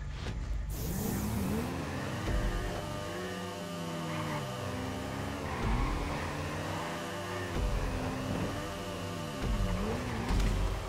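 Cars race in GTA Online, with engines revving and rising and falling in pitch through repeated gear changes, loud and continuous with a swish at the start.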